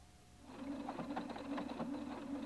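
A Husqvarna Viking Designer 1 sewing machine starts up and runs a decorative stitch around an appliqué, a quiet rapid whirring patter that continues evenly to the end.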